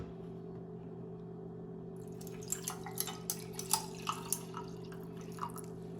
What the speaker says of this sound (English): I'm gonna go ahead and pour half of the glass with cold brew